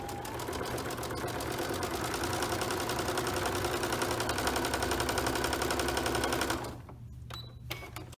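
A sewing machine stitches a fabric face mask in one continuous, loud, rapid run of about six and a half seconds, then stops, leaving faint handling clicks.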